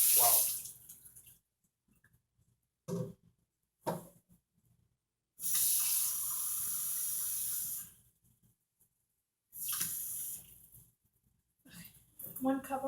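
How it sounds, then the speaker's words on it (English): Tap water runs into a measuring cup in several separate bursts of hissing flow, with short gaps of near silence between them. "now I'm going to put 1 cup of water."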